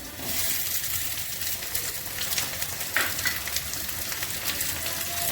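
Onion frying in a pan for a cabbage vegetable dish gives off a constant close sizzle and crackle, with light stirring clinks and no voices.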